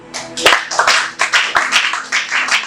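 A congregation at a French-language church worship service applauds, a dense, uneven burst of many hands clapping close by, rising and falling in waves for a few seconds without speech.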